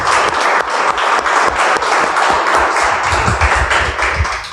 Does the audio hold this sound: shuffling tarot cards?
no